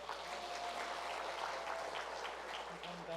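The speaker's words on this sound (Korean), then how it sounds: "자, 박수." A church congregation at a summer retreat fellowship gathering claps steadily in a room, a soft, continuous patter of applause lasting several seconds with faint voices mixed in.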